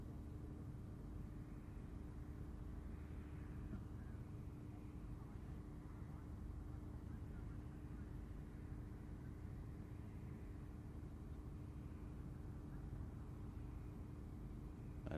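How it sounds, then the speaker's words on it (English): Boeing P-8 Poseidon touching down at Farnborough Airshow 2016, a steady, distant low jet rumble that holds at an even level, with voices faintly underneath. "And here comes the P-8 Poseidon to touch down here at Farnborough"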